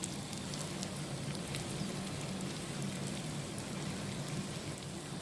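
Ginger garlic paste hits hot oil with sautéed onions while a crab curry is being made, giving a steady, soft crackling sizzle with faint pops. Nobody speaks over it.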